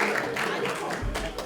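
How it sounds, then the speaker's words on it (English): Brief, steady applause from an audience at a 2023 alumni association awards gathering, honoring a donor: a dense, even wash of clapping hands throughout, moderately close and without breaks. "A round of applause for Vance Zapata"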